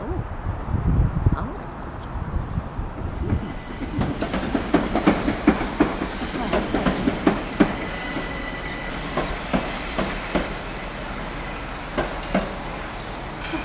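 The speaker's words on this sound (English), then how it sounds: "That's a southern service train," A Southern service train moves along a wide platform at Ashford station, with steady rail rumble and repeated clattering wheel clicks building in the middle, some squeal, birds faintly audible, and a voice speaking now and then.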